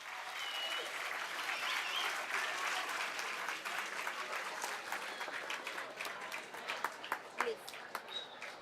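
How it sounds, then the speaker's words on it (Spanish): A crowd at a peace education master class gives a warm round of applause, a steady dense wash of clapping that carries on throughout at moderate distance, with a few sharper claps standing out near the end. "Let's welcome them with a warm round of applause."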